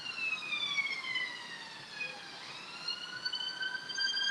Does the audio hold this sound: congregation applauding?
no